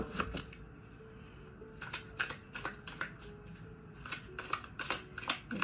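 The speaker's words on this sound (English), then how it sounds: "Let's give this a good regular shuffle." A deck of reading cards is shuffled up close and quietly, producing quick clusters of crisp papery flicks and taps in an uneven rhythm, with no voice present.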